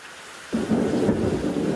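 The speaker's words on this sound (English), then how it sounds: "A storm of biblical proportions. Another deluge of torrential rain on this tiny island" Torrential rain pours down on a tiny island as a thunderstorm bursts in, a loud roaring deluge that surges suddenly after a brief quiet moment and keeps rushing steadily.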